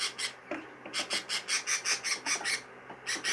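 A young show cage bird squawks loudly in a rapid, rhythmic series of harsh calls, with a couple of brief pauses, close up and alone.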